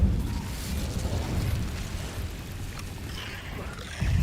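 An Incendio fire spell is cast in Hogwarts Legacy, a steady roaring, rumbling burst of flame that holds for about four seconds, close and fairly loud, with a fresh surge right at the end.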